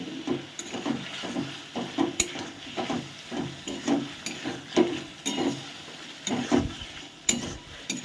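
A spice paste for an egg and potato dalna fries in a kadai with a little added water while a spatula stirs it. Rhythmic scraping strokes repeat over a low sizzle, close and fairly loud.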